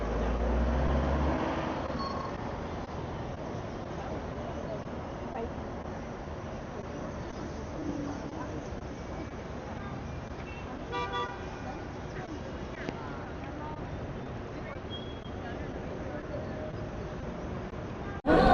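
Night traffic on a Chengdu street rumbles steadily, with a few car horns tooting at moderate distance and people talking over the road noise.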